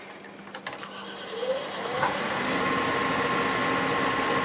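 Wood lathe spinning a laurel root ball at almost 1500 RPM, a steady mechanical whir that builds after a few early clicks and knocks, then holds a constant drone throughout.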